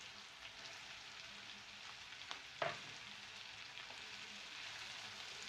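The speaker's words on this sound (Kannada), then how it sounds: "ಇದು ಕೂಡ ಆಯಿಲಲ್ಲಿ ಚೆನ್ನಾಗಿ ಫ್ರೈ ಆಗಲಿ" Capsicum frying in oil in a pan, cooked for egg chilli Manchurian after garlic paste: a faint, even sizzle runs throughout, with a single brief scrape midway and no speech.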